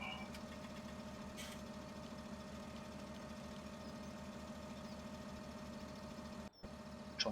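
Tractor engine idling in Farming Simulator 17, a steady low mechanical drone that holds even and unchanging throughout, with a brief dropout and small shift near the end.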